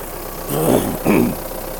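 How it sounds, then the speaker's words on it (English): A Mahindra Roxor engine idles steadily as it warms up after a cold start in sub-zero weather, a constant low hum broken by two short bursts of a voice. "let's jump out here, see how this engine is warming up"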